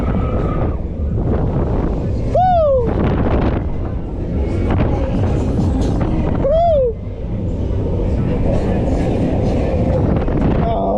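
Booster fairground ride at a Gloucester fun fair in motion, a steady loud rushing roar with wind buffeting, two rising-falling whooshes as it swings around, and excited shouting over it.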